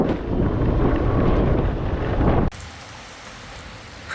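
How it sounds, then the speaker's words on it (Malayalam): Heavy rain pours on a roadside in Poonch, Jammu and Kashmir, with a rough, windy rumble, loud and close, then cuts abruptly to a faint, quiet background. "അങ്ങനെ അതാ നല്ല മഴ പെയ്തിട്ടാ"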